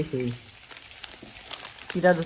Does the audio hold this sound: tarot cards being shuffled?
no